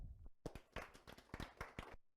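A small audience at a hypnosis demonstration gives faint applause: a short run of separate hand claps, quiet and slightly uneven, over about two seconds.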